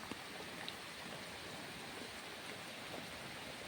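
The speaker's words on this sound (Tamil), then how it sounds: "மழை ஊற்றிக்கிட்டு இருக்கு" Rain pours steadily on a seashore beside a fishing boat, an even broadband hiss that stays constant and fairly faint, with no voices.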